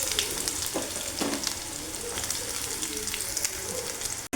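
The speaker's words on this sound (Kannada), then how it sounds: "ಸ್ವಲ್ಪ ಫ್ರೈ ಮಾಡ್ಕೊಳ್ತಾ ಇದ್ದೀನಿ ಎಣ್ಣೆಲೆ ಇದನ್ನು" Onions and curry leaves fry in hot oil for a mung bean stir-fry, a dense close-up sizzle with crackling pops and occasional stirring scrapes, with no talking.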